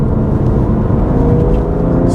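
BMW M2 Competition pulling away in third gear, a steady, loud engine drone and road rumble holding constant throughout with no pauses.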